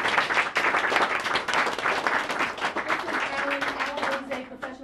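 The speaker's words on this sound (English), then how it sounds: "I want to give Alan a round of applause and Rob" An audience at a home mediumship concert gives a sustained round of applause, dense clapping that holds steady across the whole stretch before easing slightly, with a faint tone surfacing near the end.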